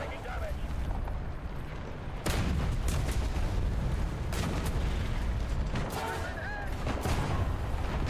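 Heavy artillery blasts in War Thunder, a tank battle, land as loud booming impacts at about two and four seconds and again near six, over a constant rumble of engine and battlefield noise.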